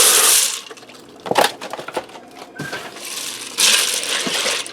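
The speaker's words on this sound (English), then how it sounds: "I'm going to add in a 16-ounce pack of penny pasta" A 16-ounce pack of dry penne pasta tumbling into an Instant Pot, a rattling hard cascade at the start and again near the end, with scattered clatter and knocks between.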